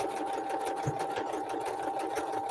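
A sewing machine stitching a buttonhole, with a fast, steady mechanical whir and continuous needle chatter held close and even throughout.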